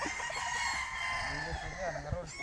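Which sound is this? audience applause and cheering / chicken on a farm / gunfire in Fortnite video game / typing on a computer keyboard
chicken on a farm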